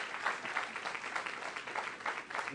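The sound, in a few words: audience applause for Professor Stefan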